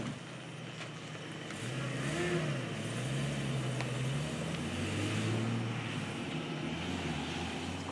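A 1999 Jeep Wrangler fitted with a Titan 4.7 stroker engine revs outdoors. The engine note rises and falls steadily for several seconds, loud and continuous, and no one speaks.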